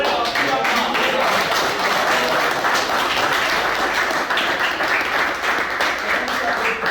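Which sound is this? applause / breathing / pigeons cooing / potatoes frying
applause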